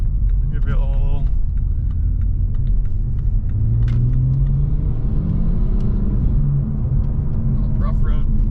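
A BMW F series car drives over a rough road, with a steady loud low rumble of tires and cabin noise throughout and a voice talking over it.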